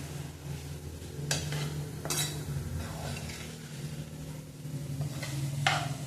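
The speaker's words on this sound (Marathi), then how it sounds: "बघा असे परतून घ्यायचे चांगले" Food being sautéed and stirred in a pan for a vegetarian mock-mutton dish, with steady clinks and scrapes of a utensil against the pan over a faint background sizzle, no voices present.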